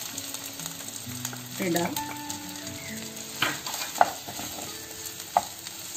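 Chicken fries in a pan with a crisp, continuous sizzle, several sharp spatula clacks against the metal and a brief spoken word early on, all close and fairly loud.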